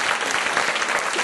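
Brief burst of dense, continuous applause from a church congregation praising the Lord, loud and filling the space.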